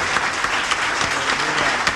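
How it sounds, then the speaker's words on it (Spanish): Steady, dense applause fills a church congregation, loud and continuous throughout with bright hand claps and no break. "Un aplauso para el Señor de la vida y de la muerte."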